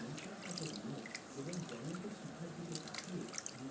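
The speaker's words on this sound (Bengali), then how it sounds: "শাকগুলো আমি এখানে ধুয়ে ধুয়ে রাখছি" Malabar spinach leaves being washed in water: a continuous close wash of splashing and trickling water with small drips and leaf rustles, fairly quiet and steady throughout.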